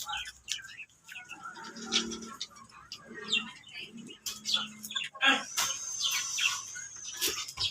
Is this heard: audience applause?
no